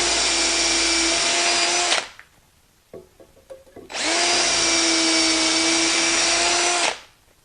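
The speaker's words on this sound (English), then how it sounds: "I'm ready to start drilling the holes for the hinge pins" A power drill boring hinge-pin holes in clamped wood runs in two long, loud, steady bursts of whining motor noise, separated by a short pause holding a few light knocks and handling sounds.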